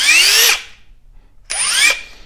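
A Makita XDT19 (TD172D) and a Hikoki WH36DC cordless impact driver run in short screw mode, giving two close, loud half-second bursts of rising motor whine with hammering chatter, separated by a quiet gap.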